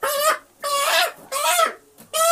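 A large black rooster gives four loud, close, drawn-out clucking calls in an uneven rhythm, with short silent gaps between them and no voices.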